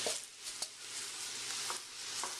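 Onions and sausage cook in a pan for an Italian red sauce, making a faint, even sizzle with a few light stirring scrapes and clicks.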